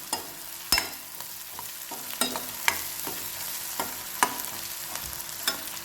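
A quarter teaspoon of cumin seeds fries in oil in a pan for masala dosa filling, a soft steady sizzle broken by scattered sharp pops and spatula clicks, close and alone without speech.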